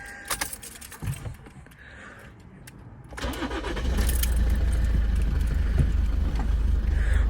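A warm 2010 Toyota Avensis 2.0 D4D diesel with a six-speed manual is started after keys jangle and a few clicks; the engine catches at once and settles into a loud, steady, close diesel idle.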